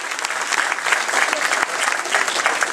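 An audience claps warmly after a talk, a dense, even burst of many hands filling the room for a few seconds, fairly loud.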